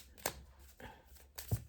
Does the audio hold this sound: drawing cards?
yes